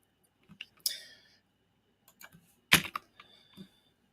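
Number keys tapped on a computer keyboard in a quiet room, a few scattered clicks followed by a sharper burst of quick keystrokes and some lighter taps.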